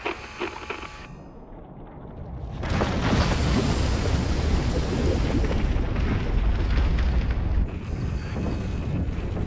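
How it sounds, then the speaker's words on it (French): Explosion sound effect in a giant shark film: a deep, roaring blast that swells after a quiet moment and rumbles on loudly, like a prolonged eruption. "on dirait une explosion"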